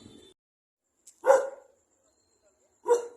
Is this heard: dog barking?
yes